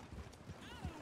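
Horse hooves clip-clop in Red Dead Redemption II, a few soft, uneven steps at close range over a low game background hum.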